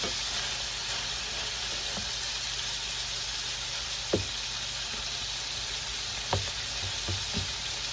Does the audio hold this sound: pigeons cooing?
no